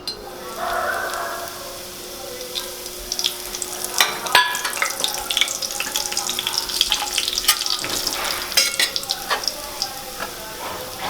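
Basic household spices fry in hot oil for a Maharashtrian country-chicken curry, with a steady sizzle broken by frequent sharp clinks and scrapes of a spoon stirring the pan.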